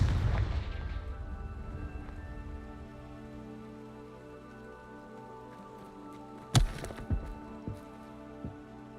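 A Confringo fire spell explodes in Hogwarts Legacy: a loud blast opens and fades over a second into a sustained musical drone, with a few sharper crackling bursts later on and no voices.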